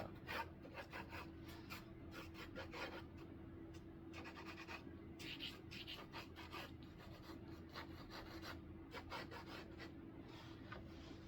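A pencil sweeps long strokes across paper while a landscape watercolour composition is sketched, a soft close scratching in repeated bursts over a faint steady hum.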